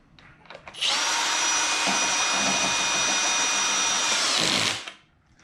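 Two 10mm nuts being tightened on a generator carburetor, a power tool whirring loud and steady for about four seconds after a few light clicks, then winding down.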